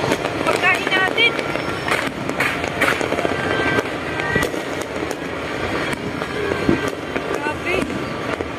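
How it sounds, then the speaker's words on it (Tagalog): New Year fireworks and firecrackers go off all around in rapid, crackling bursts and pops, a dense loud barrage with faint voices mixed in. "Mas madaming paputok, no?"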